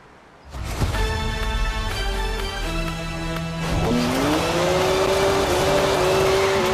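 A BMW 1M with a 3-litre twin-turbo straight six, 335 horsepower, in Forza Horizon 4 revs loudly and steadily, its engine tone holding and then climbing as it accelerates, with a tire squeal.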